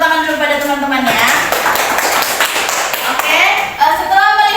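Students in a classroom poetry-writing lesson break into a short burst of clapping in the middle, with a voice speaking just before and after it.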